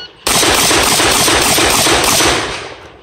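Rapid, loud, close gunfire rips continuously for nearly three seconds during a 3-gun competition shooting stage, shots blurring into one sustained roar before tapering off.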